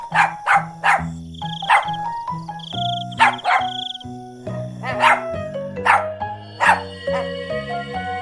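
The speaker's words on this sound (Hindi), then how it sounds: "टफी को उस चुड़ैल की सुगंध आ जाती है और वो उसकी तरफ देखकर भौंकने लगता है" Tuffy, a small cartoon dog, barks repeatedly at a witch standing at a window. Sharp yapping barks come in short clusters over a tinkling musical score, fairly close and loud, with no speech.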